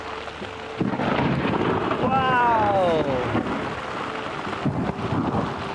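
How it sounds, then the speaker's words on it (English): Loud, close thunder rolls and rumbles through heavy hail and rain in the Simien Mountains, with a long crashing peak in the middle; a person exclaims once over the storm. "Absolutely earth-shattering thunder."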